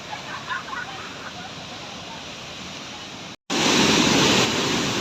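Rushing water at Kang'ang'a Falls, a waterfall in Kirinyaga, roars as a steady broadband wash, briefly cut off near the end and returning louder and closer.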